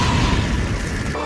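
A fire-style jutsu explosion from a Naruto anime battle, a loud sustained blast with a dense rumbling roar that stays strong for about a second before easing slightly, heard alone.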